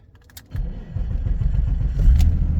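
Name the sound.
BMW 7 Series engine starting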